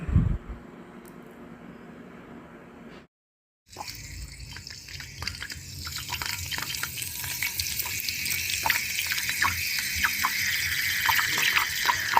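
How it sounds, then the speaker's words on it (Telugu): Steady frying sizzle with stirring and liquid sounds after a brief pause as soaked tamarind juice is mixed into an egg curry, a pan crackling continuously up close with no voices. "ఇప్పుడు నానబెట్టుకున్న చింతపండు పులుసు యాడ్ చేసుకొని మిక్స్ చేసుకోవాలి."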